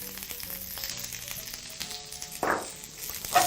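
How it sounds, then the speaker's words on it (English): Carrots and spring onion stir-frying in oil in a hot pan for chicken fried rice, a soft steady sizzle with a brief louder hiss of frying partway through and another near the end. "you're basically just allowing your vegetables to color with that beautiful heat on your pan"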